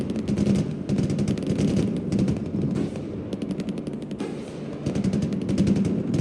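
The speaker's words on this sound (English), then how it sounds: "I don't know what the fuck these Apaches are shooting, but I'm just gonna be thankful that they are shooting" Apache helicopters fire in the Broken Arrow war game, loud rapid bursts of automatic gunfire that stutter and repeat in quick volleys, with brief gaps between strings of shots.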